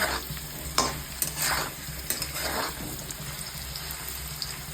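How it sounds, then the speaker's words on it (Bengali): Potatoes for aloo dum fry in a pan with a continuous sizzle, broken by a few scraping stirs of a spatula, close up and without talk. "আলুটা লাল লাল করে ভাজা হয়ে গেছে।"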